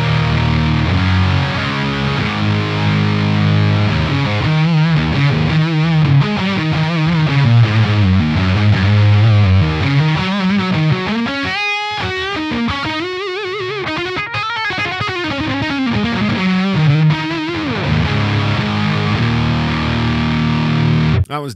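A heavily distorted single-coil electric guitar on the GIRTH preset of the Archetype: Rabea amp plugin, dug into hard with intense riffs and sustained chords, playing loud and unbroken with no voices.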